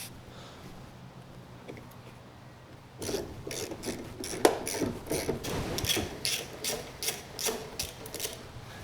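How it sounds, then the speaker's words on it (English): A ratchet or wrench tightens the four bolts holding down the fuse box on a Jeep Rubicon, starting after a quiet stretch as a run of quick, close, rasping clicks. "Now all that's left to do is tighten these 4 bolts back down."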